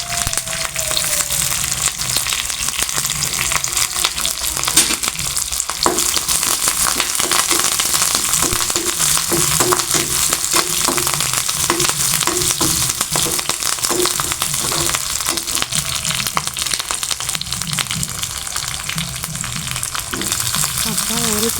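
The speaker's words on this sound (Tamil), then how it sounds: "இதுவுமே நல்லா வதங்கலாம் கொஞ்சமாக கருவேப்பிலை சேர்த்துக்கலாம்" Onions and curry leaves sauté in a pan for poduthalai kuzhambu, giving a steady, close sizzle and crackle of frying that runs without pause, with faint stirring scrapes now and then.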